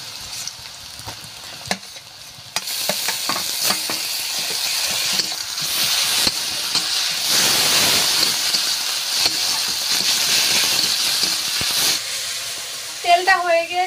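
Ginger-garlic paste sizzles in hot oil after browned onions while cooking a spicy chicken curry, a steady loud frying hiss with scattered crackles that swells and holds for most of the clip, with stirring clatter near the start.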